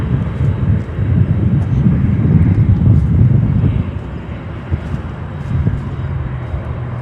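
A Lufthansa Boeing 747 departs for Frankfurt from Chicago O'Hare, its engines a loud, broad roar that swells and then eases slightly, with some wind buffeting, heard from a distance at the airfield.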